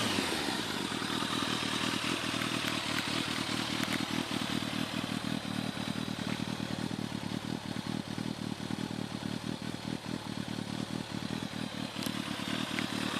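A motorcycle engine idles and rumbles with a rapid, throaty exhaust pulse, loud and close throughout, with a faint clattering edge.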